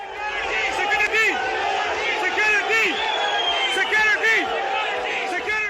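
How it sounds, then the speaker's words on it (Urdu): A stadium crowd chants and cheers after Pakistan's cricket win over New Zealand, rhythmic massed voices rising and falling continuously, loud and close, with whoops and shouts mixed in. "اسٹیڈیم میں موجود شائقین نے کیویز کو چڑھانے کے لیے سیکیورٹی کے نعرے بھی لگائے"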